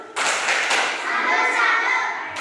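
A classroom of children performs the patterned 'tepuk salut' group clap, a dense burst of many hands clapping together, close and loud, holding steady for a couple of seconds.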